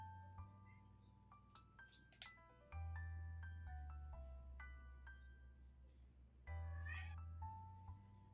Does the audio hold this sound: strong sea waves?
no